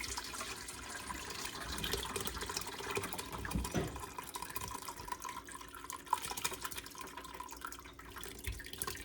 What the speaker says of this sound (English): Then you want to carefully pour everything in.